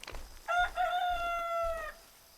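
A rooster in the video game Medieval Frontiers crows a single long, clear cock-a-doodle-doo, close and steady over faint low background rumble.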